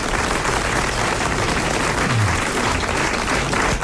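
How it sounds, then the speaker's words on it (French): A studio audience claps in sustained, dense applause that holds steady at full volume from start to finish, close and enveloping, with no talking above it. "Vous applaudissez Monsieur Clède du Chênay."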